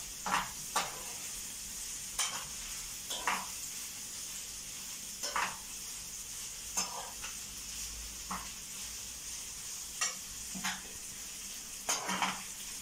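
Ingredients sizzling in oil for a Congolese white sauce with village chicken, a steady hiss under sharp clinks of a spoon against the pot recurring every second or so, close by and without talk.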